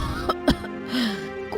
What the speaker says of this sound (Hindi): ये कैसी खांसी है?